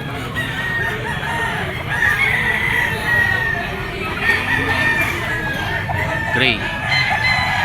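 Roosters crow repeatedly at a gamefowl sale in a pet market, including a gray hatch rooster, with clucking and other birds in the background while someone talks over the noise.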